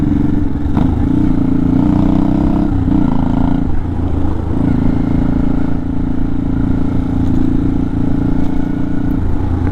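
A 1980s Honda Shadow 500 motorcycle engine runs loud and close, a steady low rumbling drone with slight shifts in pitch and a few clattery mechanical knocks, no voices.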